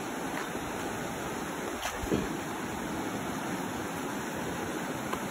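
A steady, even wash of flowing river water runs through the whole stretch, fairly close and continuous, with a couple of faint splashes and no voices.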